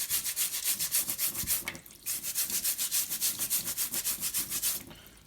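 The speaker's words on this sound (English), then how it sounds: "Just giving them a little scrub up." Abalone is scrubbed to remove the slime from its foot, a close, rhythmic back-and-forth rasping of brisk even strokes, briefly pausing once before the scrubbing resumes and fades out.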